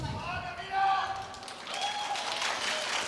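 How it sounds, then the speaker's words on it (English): A crowd at a live grappling match cheers and claps, a broad roar that swells in the second half while a commentator keeps talking over it. "The crowd getting behind these two athletes."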